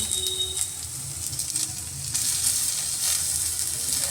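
Chopped onion, chilli and onion paste sizzling in a pan for masala mushroom, a steady close hiss of frying oil with no talking.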